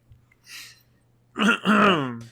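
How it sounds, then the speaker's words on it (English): One man clears his throat with a short rough cough, close and fairly loud, followed by a brief groaning voiced sound, against a quiet low hum. "Oh, I'm sorry, I got a cough."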